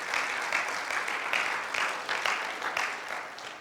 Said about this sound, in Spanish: ¿No le da un aplauso al Señor?